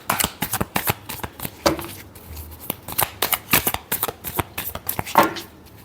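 Tarot cards are shuffled by hand in a quick series of crisp riffling bursts and soft slaps, close and fairly quiet, repeating irregularly throughout with no talk over them.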